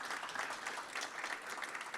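A crowd applauds steadily at a policy event on immigration and national security, a dense wash of clapping hands from a sizable audience, continuous and moderately loud throughout.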